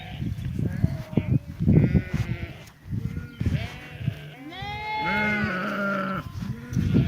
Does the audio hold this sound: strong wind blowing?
no